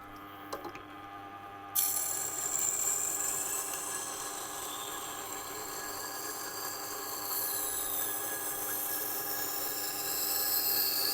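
A Global kitchen knife ground on a resin bonded diamond wheel, a steady continuous abrasive rasp after a short clatter at the start, close and moderately loud, no talk.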